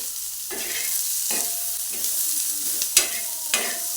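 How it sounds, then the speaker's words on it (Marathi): Sliced onion fries in oil in a pan, browning for a Pandharpur-style bazaar amti; a steady close sizzle is broken by a stirring scrape roughly every second, with no talking. "कांदा चांगला तांबूस रंगावर येईपर्यंत आपण भाजून घ्यायचा आहे"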